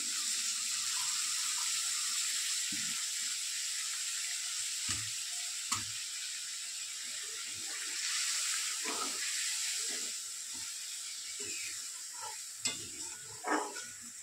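Spiced masala water from rinsing the grinder splashes into a hot pan of paneer kofta curry, giving a steady sizzling hiss with intermittent stirring and clattering of a spoon against the pan, moderately close.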